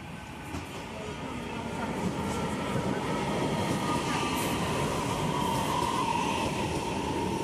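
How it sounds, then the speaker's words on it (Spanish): A CCR electric train on the Línea General Roca arrives at Remedios de Escalada station, bound for Plaza Constitución. A steady rumble and wheel noise build as it approaches, with faint squeals and no talking. "está viniendo un tren con destino a Plaza Constitución, parando en todas una unidad CCR"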